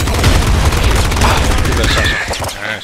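Dense, loud gunfire and bullet sounds in the Nuclear Throne video game, a chaotic stream of overlapping shots throughout, with a voice talking over the action.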